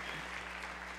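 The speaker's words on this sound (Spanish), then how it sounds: "Vamos a darle un aplauso a los de arriba" Church congregation applauding, a dense, steady wash of clapping with no pauses, heard at moderate distance and fairly faint over a low hum.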